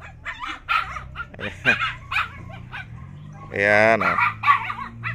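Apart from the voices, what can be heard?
puppy barking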